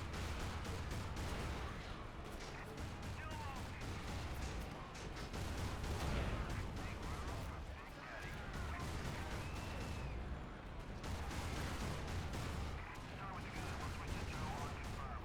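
Tank cannon and gunfire in a video game, a steady barrage of booming shots and impacts that keeps going throughout, fairly quiet, with a voice talking over parts of it.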